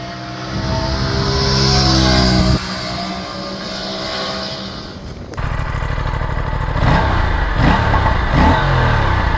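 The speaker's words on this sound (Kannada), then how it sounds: "ಪಾಪ್ಸ್ ಹೊಡಿತಾ ಇದೆ. ಪಾಪ್ಸ್ ಹೊಡಿತೈತೆ ಗುರು." An Aprilia RS457 motorcycle revving hard, engine rising and falling in loud repeated blips with sharp crackling pops from the exhaust near the listener, no talk.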